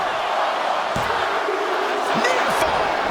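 Dense, roaring crowd cheering in the wrestling game WWE 2K25 during a Bron Breakker versus The Rock match, a constant loud hiss of voices with a few sharp thumps underneath.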